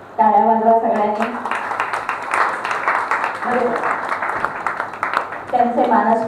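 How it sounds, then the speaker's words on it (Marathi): An audience at a 75th birthday gathering claps together in a steady burst of applause in the middle, with a person speaking into a microphone before and after the clapping. "टाळ्या वाजवा सगळ्यांनी."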